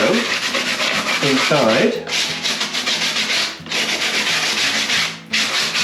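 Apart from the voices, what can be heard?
rubbing down fiberglass hatch mould surface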